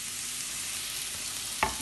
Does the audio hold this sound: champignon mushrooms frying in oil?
yes